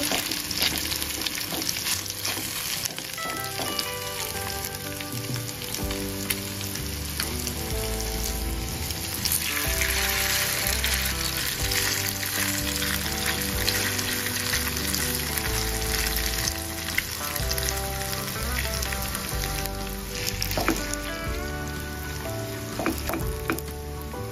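Maggi noodles fry in a hot pan with a loud, steady sizzle and crackle that runs without a break, over faint tonal background music.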